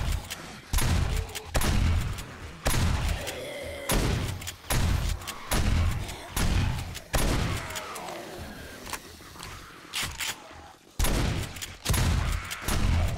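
Shotgun fire in the video game 7 Days to Die (Alpha 18) during an insane nightmare horde night: about a dozen loud, sharp blasts at uneven intervals of roughly a second, with brief mechanical sounds between them.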